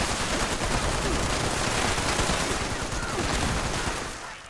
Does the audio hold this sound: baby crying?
no